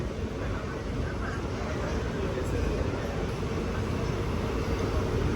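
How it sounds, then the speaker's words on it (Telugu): An Intercity Express train pulls into Kovilpatti railway station, a small three-platform stop, with a steady broadband rumble of rolling wheels and carriages holding at an even level throughout, near and continuous. "కోవెల్పట్టి రైల్వే స్టేషన్కి అయితే మన ట్రైన్ వచ్చేసింది"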